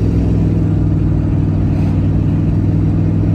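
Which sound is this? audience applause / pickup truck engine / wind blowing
pickup truck engine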